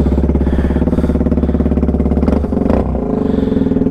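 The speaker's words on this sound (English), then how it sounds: "Then we got the 2019 Z125, which is Heather's little baby steed." A 2019 Kawasaki Z125 motorcycle idles close by with a steady, rapid single-cylinder putter and loud exhaust pulses, briefly dipping in rhythm before settling back.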